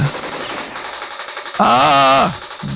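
Rapid machine-gun fire in the Operation Thunderbolt light gun arcade game, a fast loud mechanical rattle of shots, interrupted by a brief wavering voice-like tone from the game.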